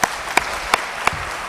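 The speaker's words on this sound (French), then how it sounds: "Applaudissements amplement mérités par notre député" An audience claps for a deputy at the FIC 2023 entrepreneurship event: four sharp, evenly spaced claps ring out against a quiet room, rhythmic and fairly near.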